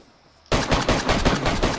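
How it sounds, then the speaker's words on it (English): Gunfire in DayZ erupts suddenly after a quiet moment, a rapid string of loud, close shots fired in quick succession like automatic fire. "I hear the gunshots."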